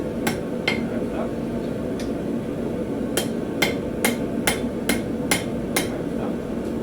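Hammer strikes on hot steel while forging a knife from a ball bearing, a run of sharp metallic blows, some single and some in quick succession, loud and close over a steady roar of background noise.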